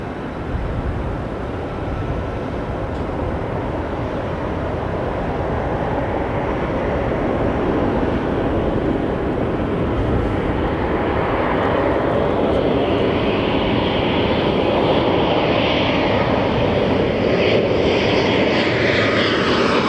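A jet airliner on runway 24 left at Los Angeles International Airport, its engines roaring loudly and steadily for the whole stretch, a broad continuous rumble with no voices.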